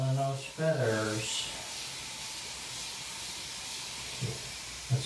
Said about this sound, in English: We're pumping it up. We're getting the mist going.